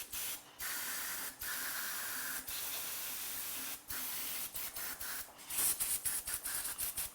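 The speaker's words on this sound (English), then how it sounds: "spray it out with some brake clean." Brake cleaner is sprayed onto a BMW/Mini Cooper S N18 engine block during a teardown. Loud, close aerosol bursts of varying length are broken by short pauses, and the last few sprays are quicker and more sputtering.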